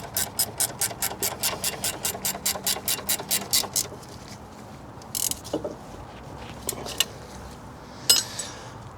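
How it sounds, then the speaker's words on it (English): A ratchet spanner tightens the brake bolts during a disc and pad replacement on a Ford Fiesta Mk6/Mk7, giving a fast run of about twenty sharp, evenly spaced clicks. It stops, and a few scattered metallic knocks follow. "So we'll start with the ratchet spanner."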